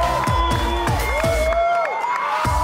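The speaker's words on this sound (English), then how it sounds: "the crowd just erupted when he hit the water" A crowd of spectators cheers and whoops at a Red Bull cliff diving contest in Texas, a loud, sustained roar with rising shouts and scattered pitched yells over several seconds.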